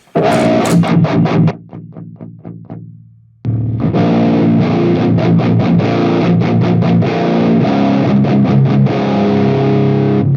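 Heavily distorted electric guitar through a Palladium preamp pedal's gain stage, chords ringing out loud and saturated, a few strums fading, then a sustained driven riff plays on without pause.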